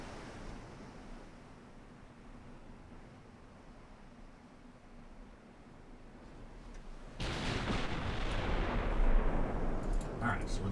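Battleship main guns fire in the naval strategy game Ultimate Admiral Dreadnoughts, a sudden loud boom breaking a low sea-and-wind rumble partway through and rolling on as a sustained roar.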